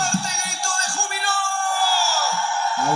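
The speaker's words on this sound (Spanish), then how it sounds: "Dale un fuerte grito de júbilo." A church congregation lets out a loud, sustained shout of joy, many voices yelling and whooping together in an indoor worship setting.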